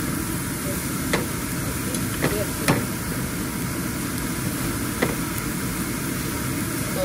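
Onions cook gently in a pan, softening rather than browning, with a constant broad sizzling hiss and a few faint clicks of stirring.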